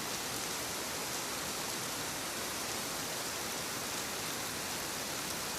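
Steady rain falling at night under cloudy skies, a dense, even hiss of drops that continues without a break, fairly loud and close, with no voices.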